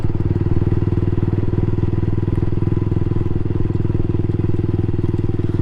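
A Yamaha R15 V3 motorcycle is ridden toward the Savar National Memorial, its engine giving a loud, steady, even drone with a fast pulsing beat, close and unbroken throughout.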